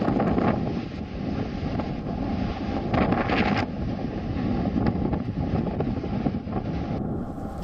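Cyclone Yaas winds of 150 to 160 km/h tear across Howrah Bridge, a loud, continuous buffeting roar that batters the microphone, with a rushing, surf-like wash beneath and no voices.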